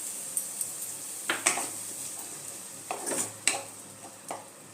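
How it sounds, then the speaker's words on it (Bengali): Tomato paste stirred into frying onion-ginger-garlic paste in a pan for chana masala, with a low sizzle under a few sharp scraping and clinking spoon strokes against the metal, close and quiet. "এর মধ্যে আমি এবার টমেটোটা যে পেস্ট করে নিয়েছিলাম টমেটো পেস্টটা দিয়ে দিলাম।"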